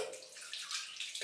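Water runs steadily from a tap during a wet shave with a 1963 Gillette Slim Adjustable razor, a close, soft hiss and splash lasting about a second with no talking.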